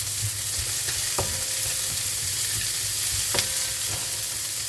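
Green beans with colored bell pepper cook in a pan, giving a steady, fairly loud sizzle with a couple of brief clinks from a utensil.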